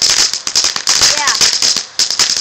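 A firework shoots flares in a cool 2011 display, throwing off a dense close crackle of rapid pops and sharp bursts, loud throughout, while people talk over it.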